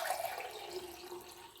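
Water, about three times the volume of the grain, is poured into a cooking pot for ragi kali, a steady close splashing pour that eases off slightly over a second and a half, with no talking.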